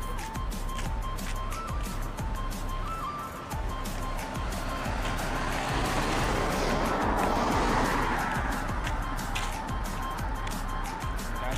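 A car moving fast along a road in Nepal gives a continuous, loud rush of engine and tyre noise that swells slightly midway, with faint voices underneath.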